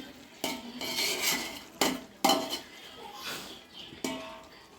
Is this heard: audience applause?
no